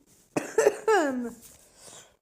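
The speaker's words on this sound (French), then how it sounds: "Je tousse beaucoup aujourd'hui." Two quick coughs followed by a longer throaty cough with a voiced tail, close and fairly loud, with no talking.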